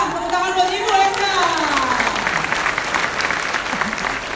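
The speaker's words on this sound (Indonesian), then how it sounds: "Tepuk tangan buat ibu Enda." Applause at a fast-breaking auction gathering after a winning 13.5 million bid, a crowd clapping steadily under an announcer's voice that carries over the top.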